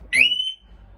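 Harley Davidson Sportster 883R motorcycle alarm giving a single short, loud electronic chirp-like tone that fades within about half a second, close up and alone.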